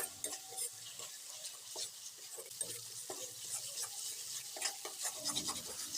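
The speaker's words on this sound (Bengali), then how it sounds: "এবার আদা রসুন বাটাকেও 3-4 মিনিট সময় ধরে ভালো করে কষিয়ে নিতে হবে।" Ginger-garlic paste fries in oil in a pan for a Bengali fish curry, giving a soft continuous sizzle under quiet scraping and stirring strokes, faint and close, with no voices.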